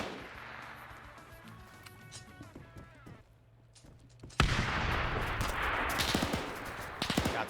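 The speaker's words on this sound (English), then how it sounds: "Suppressive fire coming out on this building." Gunfire in a World War II multiplayer match starts with scattered shots behind a quiet stretch, then erupts into loud sustained automatic fire and explosions, dense and continuous, with faint voices underneath.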